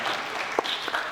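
Scattered claps trail off at the end of applause for the organising committee at an entrepreneurship seminar, leaving a few distinct hand-claps over a soft wash of fading clapping.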